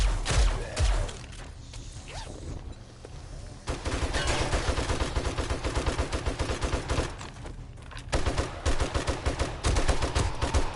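Rapid bursts of automatic gunfire in the survival video game 7 Days to Die, loud and sustained across several long volleys with brief pauses, set against a dense mechanical game background.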